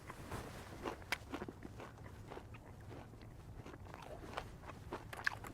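Crispy deep-fried pork, like thick bacon with vinegar and onion, is bitten and chewed at an outdoor dining table in Boston, giving soft, close crunches and mouth sounds repeating over faint background noise.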